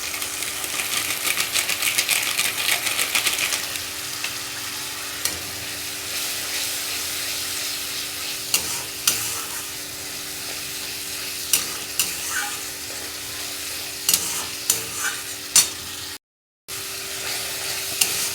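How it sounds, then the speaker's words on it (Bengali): Spice masala for tarka dal sautéed in oil and stirred in a pan: a bright, close frying hiss with occasional clinks and scrapes of a spoon, briefly cutting out near the end. "মশলাটা কষা হয়ে এসছে।"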